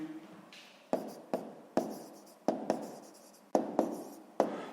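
A pen scratches on paper while working sixth-grade math exercises, a series of quick strokes with sharp taps and decaying scrapes in a steady rhythm, close and alone.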